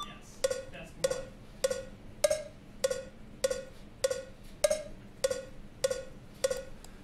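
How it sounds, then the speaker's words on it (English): A bright cowbell-like metronome click in FL Studio repeats evenly about every 0.6 seconds, eleven strikes, with slightly louder accented beats. "Or I can change it to the cowbell."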